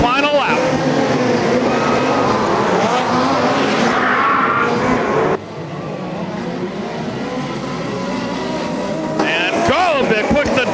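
Midget and sprint race cars roar past on the final lap of a dirt-track championship points race in Placerville, engines loud and close before a sudden drop as they pass, then rising again, with an announcer talking over the noise.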